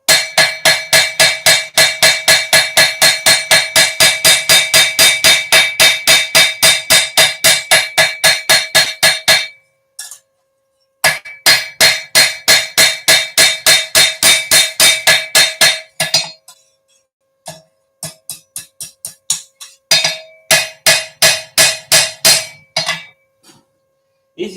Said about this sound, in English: it's just getting the hammer strikes right to move it in the right direction to get it where I want it to go